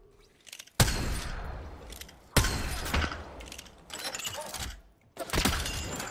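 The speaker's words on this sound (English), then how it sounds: "He's shooting a shotgun at me." Shotgun blasts in a video game land as four loud, sharp reports spaced about a second or more apart, each with a ragged decaying tail, and there is faint background clatter between them.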